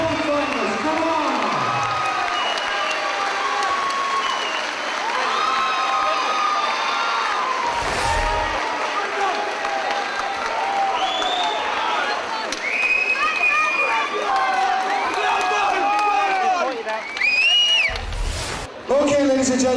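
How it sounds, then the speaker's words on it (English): A fight night crowd roars and cheers after the winner is announced, a loud, continuous wash of shouting voices and whoops with scattered clapping, rising in bursts near the end while people talk within it. "Let's have a massive round of applause for both fighters."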